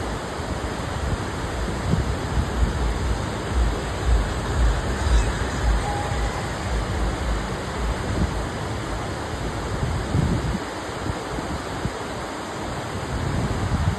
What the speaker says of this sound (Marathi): फेसळणारा धबधबा पहा